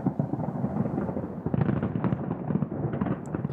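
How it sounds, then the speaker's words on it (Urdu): Fireworks display outside North Korea's ruling party 70th anniversary ceremony, a dense continuous rumble of bursts and crackles from a distance, with no clear single bangs. "تقریب کے باہر عام لوگوں کے لیے آتش بازی کا منظر۔"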